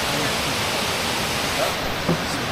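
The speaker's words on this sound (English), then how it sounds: "We're at some waterfalls today" A waterfall in Southeast Asia pours with a steady, dense broadband roar that fills the whole clip evenly, with no talk over it.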